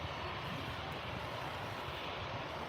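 A Qatar Airways Boeing 777 at Manchester Airport gives a steady, broadband jet roar that holds at an even level throughout, with no voices.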